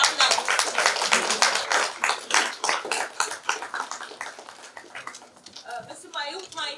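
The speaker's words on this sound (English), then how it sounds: "Please, coffee and tea is waiting so we can clap now" An audience at a microfinance HR conference claps for the panelists, with bursts of hand claps running through the whole stretch. A voice talks over them, and the claps fade toward the end.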